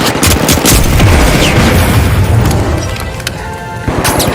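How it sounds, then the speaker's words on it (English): Frag grenade detonating in the video game THE FINALS, a loud close boom with crashing debris and rapid gunfire around it, no talk. "Frag grenade out!"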